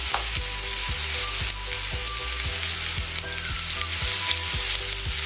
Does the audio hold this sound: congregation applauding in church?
no